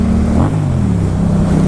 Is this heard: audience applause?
no